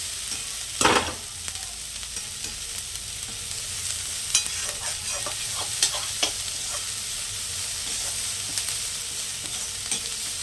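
Onions frying in a pan for beetroot palya, a continuous sizzle with intermittent scraping and clinking as a utensil stirs them, close and steady throughout.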